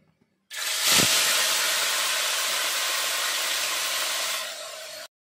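A loud, steady sizzle of amudi fish frying in hot oil in a kadai erupts suddenly with a sharp burst, then holds a constant hiss for several seconds before cutting off.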